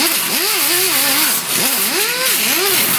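An angle grinder works over a ground-down weld on a 1969 Chevrolet C10 truck, its loud whine rising and dipping in wavering sweeps as the disc loads and frees against the steel, close and steady for three seconds.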